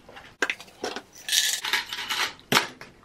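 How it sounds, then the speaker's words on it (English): Metal hair pins clatter into a ceramic soup dish in a bathroom: a handful of light, bright clinks and jingles, some in quick clusters, close and fairly quiet with no talking. "I'm gonna put the hair pins in this soup dish for now"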